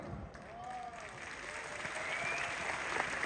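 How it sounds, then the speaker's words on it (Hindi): An audience claps in steady, sustained applause that builds slightly in volume, heard fairly faint and distant with no voices over it. "इन लोगों की तालियों से इस बात का एहसास होता है"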